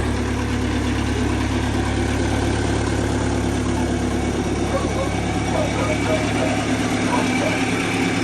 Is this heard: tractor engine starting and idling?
yes